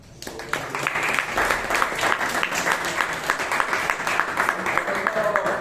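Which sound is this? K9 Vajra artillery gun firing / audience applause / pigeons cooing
audience applause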